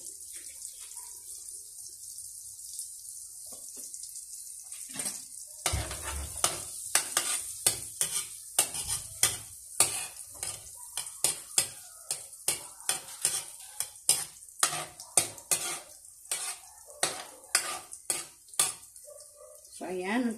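Butter melting and sizzling in a pan, a quiet hiss at first, then a long run of rhythmic scraping and stirring strokes against the pan over a constant sizzle.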